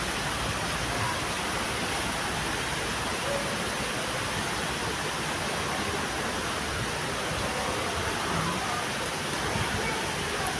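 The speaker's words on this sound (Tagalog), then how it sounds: "Medyo malakas ang ulan, ha?" Heavy rain pours down in Hong Kong in a dense, constant hiss that stays unchanged throughout.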